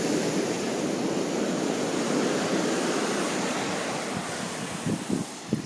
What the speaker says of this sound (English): The water, the Pacific Ocean.